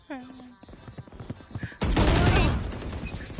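A loud burst of rapid video game gunfire erupts after a short stretch of voices and clicks, sustained and harsh before fading; a person speaks briefly at the start.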